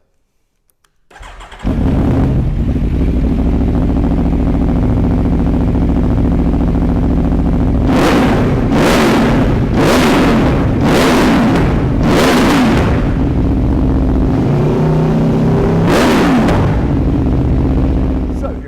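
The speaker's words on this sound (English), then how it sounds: "So let's fire this one up and have a listen." An Aprilia Tuono V4 1100 Factory motorcycle's V4 engine starts up and idles with a deep, steady rumble, then is revved sharply several times in quick succession, loud and close.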